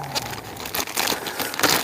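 A one-gallon plastic bag crinkles up close while being handled on a hiking trip, giving steady irregular rustling with a few sharper crackling bursts and no voices.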